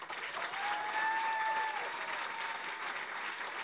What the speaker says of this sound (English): Let's officially give a big round of applause to Gary Vaynerchuk.